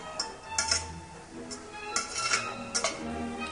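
Sliced mushrooms being stirred with garlic, butter and olive oil in a pan: a utensil scrapes and clinks against the metal in uneven strokes over a soft, continuous sizzle, close and moderately loud.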